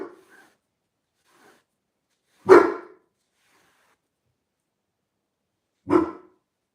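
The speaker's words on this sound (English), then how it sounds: "I swear he'll bark at anything." A dog barks twice, each bark loud, sharp and close, with a few seconds of near silence between them and a faint noise at the start.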